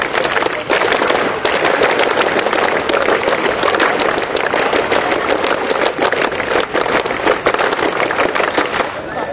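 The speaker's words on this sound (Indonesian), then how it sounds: "Untuk perhatian, 3 kali tepuk pramuka." Indonesian scout group clapping the rhythmic tepuk pramuka at a ceremony, loud dense volleys of many hands striking in patterned bursts, with voices mixed in.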